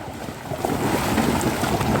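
Water sloshes and splashes continuously as buffaloes wade through a river, with a broad rushing wash and outdoor wind noise, no voices.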